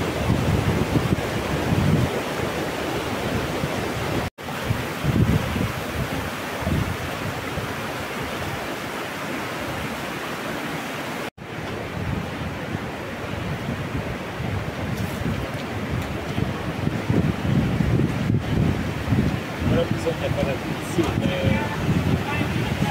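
A loud, continuous roar of rushing water in a gorge at the Orrido di Foresto, Val di Susa, heard from just above the water, steady and close, with a couple of abrupt dropouts and wind buffeting.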